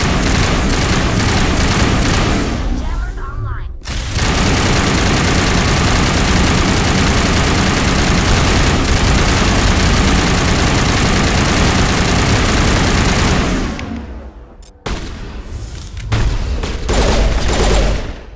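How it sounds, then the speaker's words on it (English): Burst-fire pistol shots in the Mass Effect video game ring out within a dense, loud, continuous wash of combat noise and rumbling engine-like drone, broken by two short gaps. "Oh, it's a burst fire pistol."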